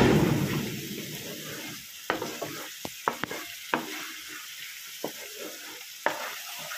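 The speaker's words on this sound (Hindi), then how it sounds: "तो चलिए मसाले को हम भुनने देते हैं।" Spice paste colored with Kashmiri chili fries and bubbles in a pan, a soft close sizzle broken by a series of sharp spoon taps and scrapes against the pot, with no voices.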